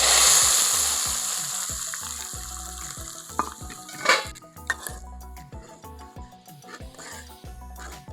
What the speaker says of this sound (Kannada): 2 ಒಣಮೆಣಸಿನ್ಕಾಯಿ, ಆಗಿದೆ ಒಗ್ಗರಣೆ